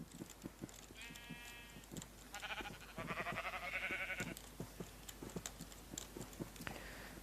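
Sheep in Minecraft bleat in several short calls, heard alone without talk over a background of soft, repeated footstep-like clops.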